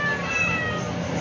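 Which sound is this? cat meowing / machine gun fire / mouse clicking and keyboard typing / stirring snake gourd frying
cat meowing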